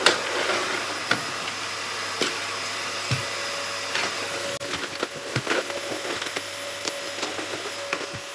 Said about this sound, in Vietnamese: Và máy hút bụi thì nó rẻ rất là ồn luôn.